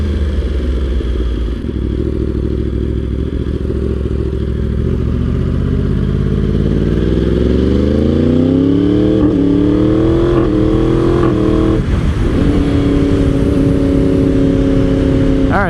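Yamaha R1 sport motorcycle engine running steadily in sixth gear at cruising speed, a loud continuous close-miked drone whose pitch slowly climbs and settles with the throttle held.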